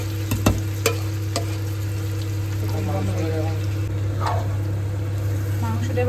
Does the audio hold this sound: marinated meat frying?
yes